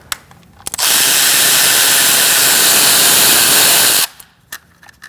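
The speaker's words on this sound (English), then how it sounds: "We're going to remove our bolt here with a T30." A power tool spins out a bolt with a T30 Torx bit on the engine of a 2008-2014 Mercedes-Benz C300 3.0L V6. It gives one loud, steady, whirring burst of about three seconds, with quiet clicks and handling noises before and after.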